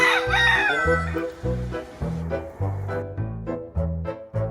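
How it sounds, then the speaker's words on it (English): A rooster crows in a toy-like musical, rhythmic pattern, loud and repeated several times with no talking. "Well, it's a rooster."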